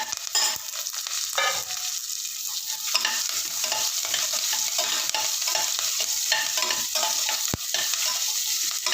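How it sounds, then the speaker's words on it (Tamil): Chopped onions and curry leaves fry in a pot of oil for one-pot vathakuzhambu rice, giving a continuous close sizzle with frequent scraping stirs and occasional spoon knocks. "வெங்காயத்தையும் கருவேப்பிலையும் போட்டுறேன்."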